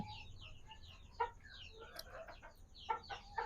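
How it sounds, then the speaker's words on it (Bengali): Local desi chickens in a partitioned coop give a few short, quiet clucks and calls in bursts, faint and fairly close over low background noise. "দেশি মুরগি রাখা আছে কিছু"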